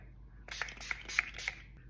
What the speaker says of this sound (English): And finally, setting spray.